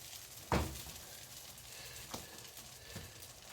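Food placed into a hot pan for breakfast, with a sharp initial sizzle and clatter as it hits, then a quiet low frying hiss broken by a couple of faint taps.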